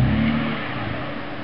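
SsangYong Musso engine revving steadily and fairly loud, a sustained low drone that eases slightly as it holds.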